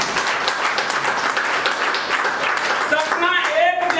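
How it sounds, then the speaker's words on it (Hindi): A meeting audience of field developers and team leaders breaks into steady, dense applause that carries on for about three seconds before a voice takes over near the end. "एक बार उनके लिए भी जोरदार तालियां।"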